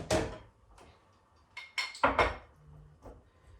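Utensils clink against a bowl while fruit salad is stirred gently, making a few short scrapes and knocks with quiet pauses between them.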